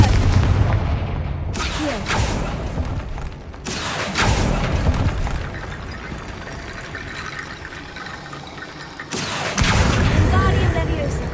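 Confringo explosive spell blasts in the game Hogwarts Legacy, several heavy booming bursts separated by short lulls, with a voice speaking between them.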